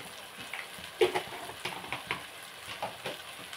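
Coriander seeds and cumin roast in a pan, giving a soft, steady sizzle with scattered light crackles and stirring scrapes, fairly quiet and close.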